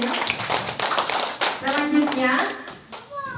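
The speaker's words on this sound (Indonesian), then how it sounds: "boleh tepuk tangan untuk Ibu Christina Geno" A small group claps for Ibu Christina Geno at a school culture dissemination session, scattered and uneven hand claps close by, with a voice and other voices talking over them.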